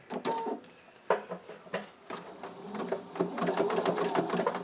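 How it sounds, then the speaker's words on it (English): A sewing machine stitches elastic into a face mask with a 1/4 inch seam, running in short bursts of rapid mechanical chatter with brief pauses, then a longer steady run, close and fairly quiet. "Sewing in the elastic. Using a 1/4 inch seam."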